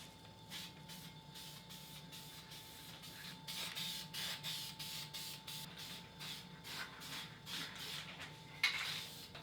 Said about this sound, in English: there we go with the rattle can